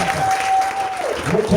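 A congregation applauding and cheering during a church worship service, a steady dense clap and crowd roar under a sustained tone, with a voice speaking over it.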